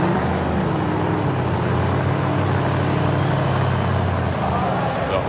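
A 1,015-horsepower monster truck engine at a 1986 USHRA arena event in Philadelphia rumbles loud and steady, a low droning idle with rising revs, while the truck struggles with transmission trouble and an announcer talks over it.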